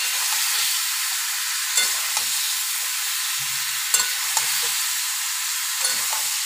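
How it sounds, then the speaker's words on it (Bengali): Chicken pieces and vegetables fry in a pan for a chicken stew, giving a steady bright sizzle with occasional scraping knocks and clatters as a spoon stirs them. "সবজিগুলো দেওয়ার পর একটু নেড়ে মাংসগুলো দিয়ে ভেজে নিতে পারেন"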